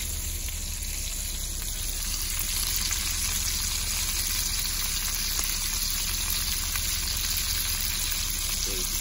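Minced meat frying uncovered in a pan, a loud, dense, continuous sizzle and crackle heard up close, steady for the whole stretch with no voices.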